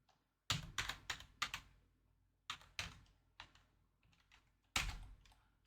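Bursts of typing on a computer keyboard, close and fairly loud, with quick key clatter in several separate runs and short pauses between them, no voices.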